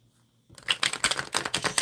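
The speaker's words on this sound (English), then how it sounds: "I'm shuffling for Witchy." Tarot cards are shuffled by hand: after half a second of near silence comes a quick run of close, crisp papery riffles and slaps with no voice.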